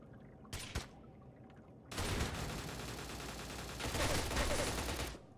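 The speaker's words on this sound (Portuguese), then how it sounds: "Um tiro no coco." Gunfire in a multiplayer survival shooter video game: a brief burst of shots, then a long sustained rattle of rapid fire that grows louder before cutting off.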